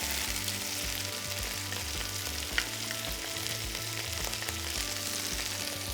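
Sliced, diced garlic and chicken pieces sizzle steadily in a hot pan, a continuous close frying hiss with a single sharp click partway through, no voices.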